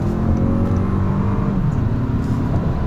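Toyota Crown sedan accelerating hard in Sport Plus mode, a steady, loud engine drone with low rumble that holds constant throughout, heard from the cabin with no talking.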